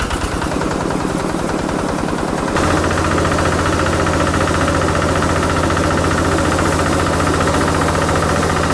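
A MAKTANI MT212 rice mill powered by a Kubota RT150 engine fires up and settles into a loud, steady, rapid diesel chug that runs on close by, with no talking.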